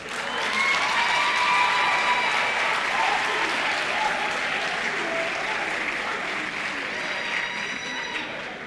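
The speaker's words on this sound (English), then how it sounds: "Please clap for them." Studio audience applauding contestants at a national science and maths quiz final, a steady sustained clatter of many hands near and full throughout, easing slightly toward the end with no talk over it.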